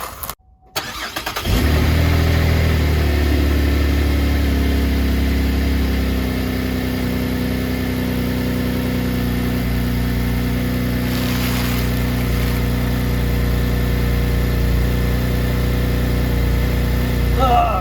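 A GMC Acadia engine fires up after its exhaust leaks are repaired, then settles into a steady, loud, close idle with a low rumble that carries on for about fifteen seconds.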